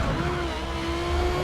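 A race car in Forza Motorsport accelerates hard out of a first-gear corner, a loud, sustained engine roar with a steady tonal whine, continuous and close.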